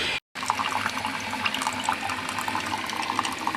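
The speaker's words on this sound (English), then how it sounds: "I use the strong button on the Keurig" Steady pouring and hissing of a Keurig coffee maker brewing coffee on its strong setting, a continuous liquid stream after a brief gap at the start, close and alone with no voices.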